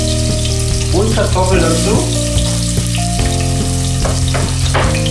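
Onions, carrot and potato frying in a pan for yellow chicken soup, a loud steady close sizzle with stirring scrapes, a voice speaking briefly over it.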